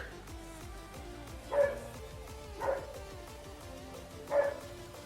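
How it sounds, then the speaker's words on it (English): Dogs bark outside at a distance, three separate single barks spaced a second or more apart, heard through a room with a low steady hum. "where I live, there's like dogs everywhere, so they're always barking"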